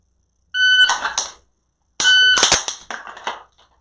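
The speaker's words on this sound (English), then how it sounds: "react to the very first note of the beep" Two sharp electronic beeps from a shot timer during dry-fire practice, the second longer and followed by a quick clatter of clicks, close and loud against silence.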